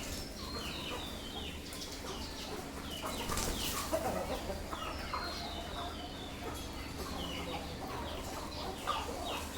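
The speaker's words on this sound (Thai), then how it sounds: "ให้ดูคลิปไก่นะคะวันนี้" Chickens cluck and murmur softly in the background, scattered calls over a low steady hum, fairly faint and distant.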